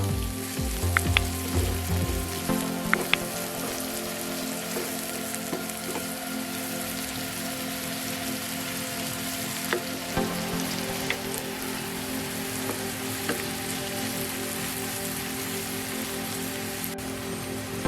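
Onions, about a cup and a half, frying in a pan as the first step of a Bangladeshi hotel-style prawn vorta, giving a steady crackling sizzle like dense rain with a few stirring clinks near the start.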